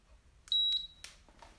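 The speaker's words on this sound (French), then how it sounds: "Et puis on démarre dans 5 secondes sur le bip." A single short electronic start beep for timing a pulse count during a home workout session, sharp and clear above faint background noise, followed by a brief soft rustle.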